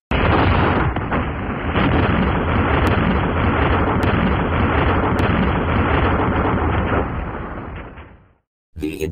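A loud, sustained explosion effect destroying the system, a dense roaring blast that holds for about eight seconds before cutting off abruptly, with a robotic synthesized voice heard faintly among it.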